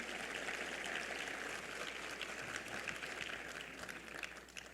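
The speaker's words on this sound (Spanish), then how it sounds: "Les damos un fuerte aplauso de Vida Nueva para el mundo" A church congregation at a Spanish-language service applauds in a steady, dense wash of clapping that holds for several seconds at a fairly distant, low level, with no voices standing out.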